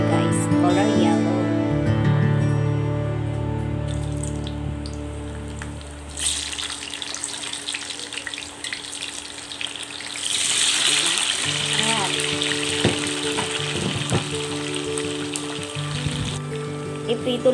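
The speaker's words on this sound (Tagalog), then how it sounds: "Iprito lang natin muna yung kamote guys para kumapit yung asukal mamaya pag halo natin" Steady hiss and crackle of sweet potato frying in hot oil, with clattering and scraping of a pan mixed in.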